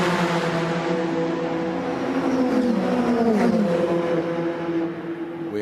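Racing engines of a pack of DTM race cars, including Ferraris, roar past with rising and falling pitch, loud and continuous with a brief Doppler sweep mid-way.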